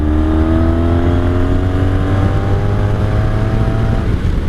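A 1983 Honda Sabre VF750C motorcycle engine running in fourth gear, a loud, close, continuous drone whose pitch sinks slightly and then holds steady over several seconds, with no voices.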